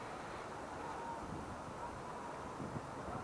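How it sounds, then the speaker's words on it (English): Faint, steady wind blows across an allotment vegetable plot, producing a low, even broadband rush with occasional gusty buffets on the microphone. "that wind is really starting to pick up now."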